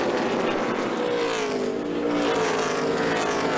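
NASCAR race cars roaring around New Hampshire Motor Speedway, a loud, continuous blend of several engines at high revs with no one talking over it.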